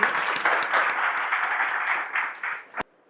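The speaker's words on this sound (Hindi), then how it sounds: "बहुत जोरदार तालियां" Loud, dense applause from a training-session audience fills nearly three seconds, holding steady before cutting off abruptly into silence.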